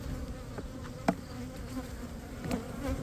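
Bees buzz steadily around an open hive during an inspection, a constant close drone with a few brief louder passes as individual bees fly near, no talking.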